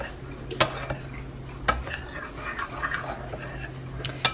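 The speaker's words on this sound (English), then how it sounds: "I'm going to add a little bit of the butter and mash it up" Butter being mashed into a blackberry cobbler crumble topping with a utensil, giving soft scraping and occasional sharp clinks against the bowl, close and moderately quiet with no talking.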